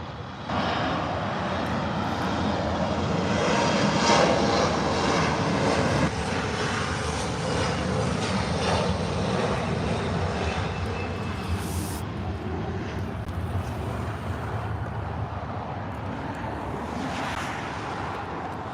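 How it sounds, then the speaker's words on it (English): Engines of an Alaska SkyWest Embraer E175LR jet airliner at an airport roar steadily and loudly for the whole stretch, a broad, sustained rumble with a slowly shifting tone and wind-like hiss, with no voices. "What you just saw was Alaska SkyWest Flight 3499 going to Seattle on an E175LR."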